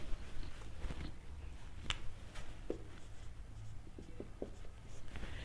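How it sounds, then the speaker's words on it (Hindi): Red pen writing on a board or paper during a biology lesson, faint scattered ticks and short scratchy strokes over a low room hum, with no talk. "रेड पेन से लिखते हैं।"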